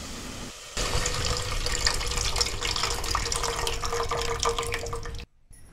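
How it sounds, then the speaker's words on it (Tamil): Tamarind water pours into a pan of fried onions for a sambar-style dish, making a steady rushing splash that lasts several seconds and then stops abruptly. No one speaks. "வெங்காயம் வதங்கினதுக்கு அப்புறமா கொஞ்சமாக புளி தண்ணியை ஆட் பண்ணிக்கலாம்."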